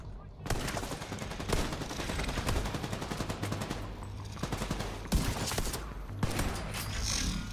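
Rapid gunfire in the video game Tom Clancy's The Division 2 during a drone attack: loud, continuous automatic bursts with brief breaks, some single shots and a few sharper reports.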